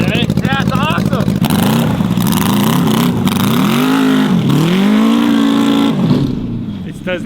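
Quad bike fitted with a swapped sport-motorcycle engine and unequal-length headers, running rough: loud, raspy, uneven engine noise with repeated revs rising and falling in pitch, close to the microphone, with people talking over it.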